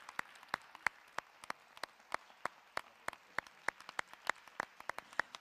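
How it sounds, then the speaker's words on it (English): Scattered, sparse hand claps from an audience at a university academic-year opening ceremony in Macerata. The crisp individual claps come at an irregular, unhurried pace and sound faint and somewhat distant, with no one speaking. "So I would ask a very heartfelt round of applause for all those that weren't on the scene"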